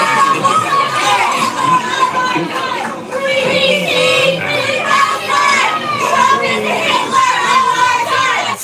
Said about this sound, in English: listen to the radicals over here and what they're cheering, chanting